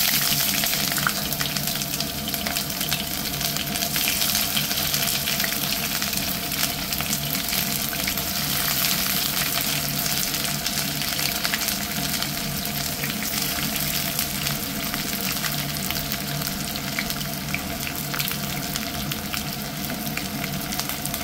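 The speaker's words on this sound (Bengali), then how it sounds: "এখন আমি পেঁয়াজ ছাড়বো" Onions go into hot oil for a Bengali dried-fish and eggplant dish and fry with a dense, steady roaring sizzle that holds evenly for about twenty seconds, close by.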